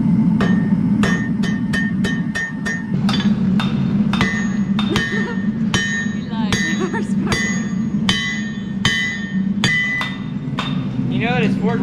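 Hammer blows on a forge-welded Damascus steel billet ring out in a loud, irregular series of sharp metallic strikes over a steady low roar, likely the forge, with some talking mixed in.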